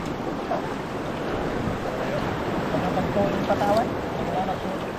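Waves crash against a seaside wall in a steady, dense roar of surf and wind that runs without a break, with faint voices just audible beneath it.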